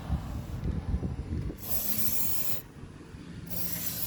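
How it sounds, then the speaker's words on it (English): Aerosol dry grease hissing from a spray can onto the steering sector of a Craftsman T260 riding mower, two steady sprays of a few seconds each following a rustling, handling sound. "Spray that on"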